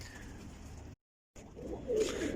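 Pigeons coo softly on a rooftop, a low burbling call rising toward the end, broken by a brief silent gap near one second, with faint background hiss and no talk.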